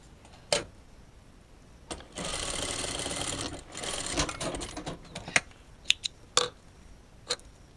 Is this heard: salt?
no